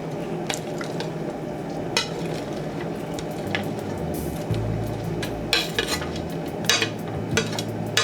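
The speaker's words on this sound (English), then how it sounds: "I'm gonna add the peppers and the onions," Peppers and onions cook in butter in a skillet, a steady close sizzle with occasional clinks of a utensil against the pan and stirring scrapes, no voices.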